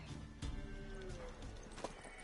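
A horse in the video game The Witcher 3 gives clip-clopping hoof steps and a brief neigh, faint and mixed with game ambience.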